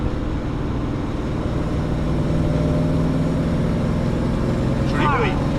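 A Chevrolet Camaro SS on the move, its engine a steady low drone with a constant road rumble, loud and close throughout, and a brief chirp-like sweep near the end.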